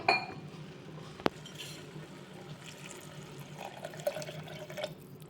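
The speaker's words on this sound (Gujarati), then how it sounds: "બે કપ જેટલું આની અંદર આપણે પાણી ઉમેરી દેશું" About two cups of water splash into a metal pressure cooker with spiced rice, a soft gurgling pour accompanied by a few sharp clinks of utensils.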